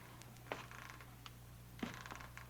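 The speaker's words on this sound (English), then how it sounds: "or was it just the creaking of the old house?" Creaks of an old house in a radio suspense drama: two brief wooden creaks about a second apart over a steady low hum, faint and without voices.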